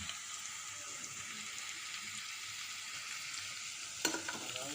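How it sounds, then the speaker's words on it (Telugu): Dried fish and ivy gourd curry frying in a pan, a soft, steady hiss of sizzling oil heard close up, with one sharp scrape or clink near the end. "ఇది బాగా ఫ్రై అవనివ్వాలి"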